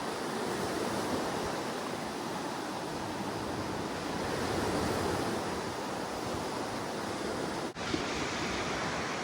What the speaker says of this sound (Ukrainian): Вчора були більші хвилі, сьогодні не такі вже великі.